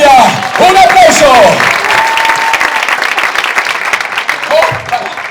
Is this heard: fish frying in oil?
no